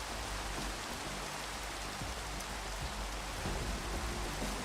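Rain falls steadily in Minecraft, a dense, even hiss of drops that holds without a break, fairly loud and alone with no voices.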